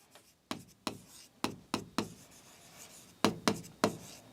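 Pen or chalk strokes writing out a trigonometry identity, cosec squared, during a Class 10 maths lesson: a series of short, sharp scratchy taps in uneven bursts, close and fairly clear, with no talking.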